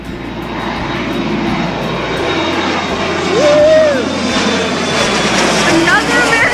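Loud, continuous engine roar of an American Eagle airliner taking off, swelling slightly midway, with people talking and exclaiming over the noise.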